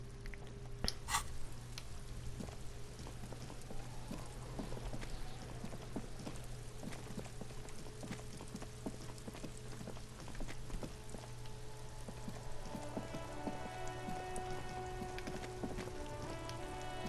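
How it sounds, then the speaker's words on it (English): Steady rain falling on surfaces in the video game Disco Elysium, a continuous dense patter with occasional louder drips, over a low constant hum, with a faint tonal musical texture emerging toward the end. "It's raining again."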